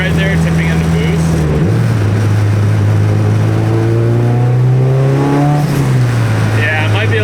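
A 600HP street car's engine pulls under boost, a loud, close drone that steps up in pitch and rises steadily before easing off, with a voice talking over it.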